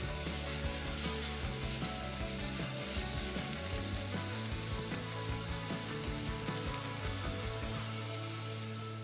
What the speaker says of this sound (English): We're gonna saute this for a little bit